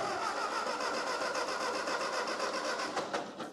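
A grandad's 1940s Ford 8N tractor, choked and given some throttle, cranking and churning loudly with a rapid rhythmic mechanical clatter, close up and continuous, ending in a sharper burst.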